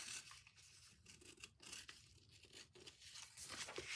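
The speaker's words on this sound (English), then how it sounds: "And just tear it away by hand." Paper is torn away by hand for a herbarium journal, giving a continuous, quiet, rasping rip with crinkling that swells and fades over a few seconds.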